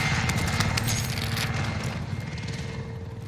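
Gunfire aimed at a helicopter in a Call of Duty Plunder match: dense, rattling bursts of rapid shots layered over a continuous chopper-like drone, loudest at the start and thinning out over a few seconds.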